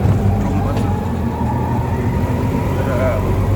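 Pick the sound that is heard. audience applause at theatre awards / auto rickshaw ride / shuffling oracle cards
auto rickshaw ride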